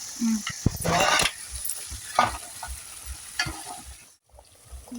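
Food frying in a home kitchen pan, crackling under repeated stirring and scraping scrapes with a few clinks, a short burst of talk early on and a brief quiet gap near the end.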